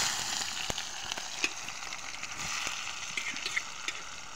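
Onion hitting hot oil in a pot cooked outdoors in a forest alongside homemade garlic, giving a steady soft sizzle and crackle with scattered small pops and spatters throughout, no talking over it.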